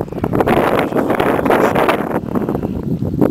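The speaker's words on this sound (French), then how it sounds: "Il fait toujours du vent, hein." Wind blows hard outdoors, buffeting the microphone in loud, gusting broadband roars that swell and ease without pause.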